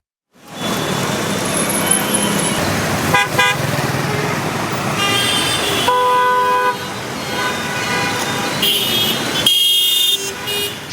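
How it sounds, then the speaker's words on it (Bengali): Car horns blare again and again in busy, congested road traffic, loud, close, overlapping honks of different pitches over a constant roar of engines and roadway noise, with no voices. "যানবাহনের চেয়েও ভয়ঙ্কর হয়ে উঠেছে কান ফাটানো হর্ন।"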